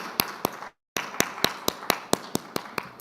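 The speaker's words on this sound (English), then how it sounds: "Can we have a big round of applause for him?" A conference audience welcomes a speaker at a brand conclave with sparse, distinct claps at a slow, uneven rhythm, broken by a brief full silence, with no talk.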